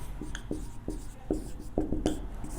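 A pen writes out a geometry proof on paper, making soft, close scratches and taps in an irregular rhythm of short strokes, quiet and alone.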